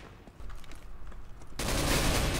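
Counter Strike gunfire comes in at low volume: a few faint shots and clicks, then a sudden dense burst of rapid fire that fills the final second.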